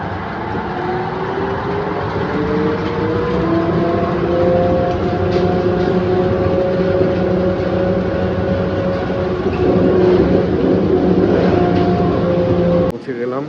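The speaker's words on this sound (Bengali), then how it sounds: "চালকবিহীন ট্রেন ঢুকে পড়েছে স্টেশনে।" A driverless metro train at a Dubai airport station hums loudly with rising and falling motor tones as it pulls in, close and continuous, with a sharp knock at the end and speech over it.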